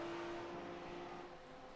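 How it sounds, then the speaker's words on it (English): A Porsche race car engine in a sim racing game drones along the endurance start-finish straight at Spa-Francorchamps, a faint, steady tonal hum held throughout with no one talking. "Just listen to that Porsche."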